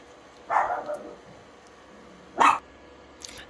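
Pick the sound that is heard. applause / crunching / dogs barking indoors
dogs barking indoors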